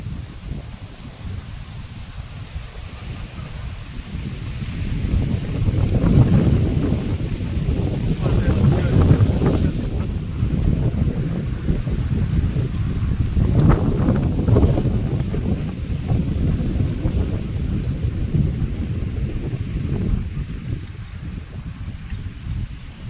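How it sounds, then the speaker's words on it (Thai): Strong dry wind blowing outdoors by a pond, a rough, gusty rumble buffeting the microphone that surges twice and never lets up, with faint voices of people nearby. "ลมแห้งโคตร"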